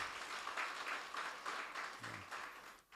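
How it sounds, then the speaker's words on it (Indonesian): Congregation applause at an Indonesian church worship service, a steady wash of many hands clapping that swells and fades across the moment, fairly distant in the hall with a short low murmur near the end. "Beri tepuk tangan buat Tuhan."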